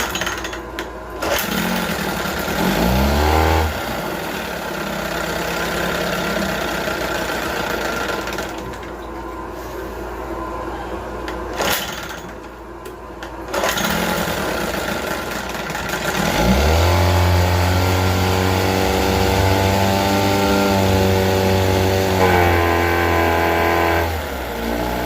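A 1978 Johnson 6 hp outboard motor, primed and choked, is cranked and catches, then runs with a loud buzzing two-stroke drone up close, its pitch rising and falling as the throttle changes.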